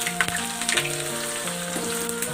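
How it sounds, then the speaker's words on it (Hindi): Steady sizzle of sliced onions and bay leaves frying in hot oil, a continuous crackling hiss with a few sharper pops and a faint tonal hum underneath. "तेल गर्म हो जाने के बाद हम इसमें ऐड करेंगे तेज पत्ता और स्लाइस ऑनियन"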